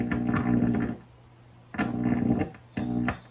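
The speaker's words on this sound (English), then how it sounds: "Great distortion sound effect for guitar." Three bursts of harsh, buzzing distorted electric guitar, each chord ringing loud for about a second with brief gaps between.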